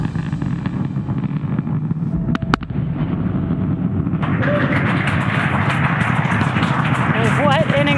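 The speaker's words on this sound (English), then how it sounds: "those landing burns have begun on the side boosters" Falcon Heavy side boosters fire their landing burns at touchdown, a broad rumbling roar that swells partway through and runs under continuous commentary.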